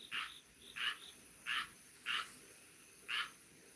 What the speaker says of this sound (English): Hear that? It's a green frog.